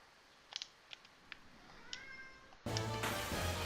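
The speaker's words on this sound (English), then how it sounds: "And there's a cat who's complaining." A cat in a role-playing game meows in a few short, complaining calls at first, followed by louder game music that swells in, with no talk.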